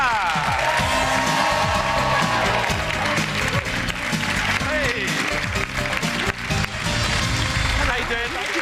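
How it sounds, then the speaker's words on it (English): A studio audience applauds and cheers on a televised cooking show, with dense clapping and a few whoops filling the room over backing music and what sounds like a voice or two. "Round of applause."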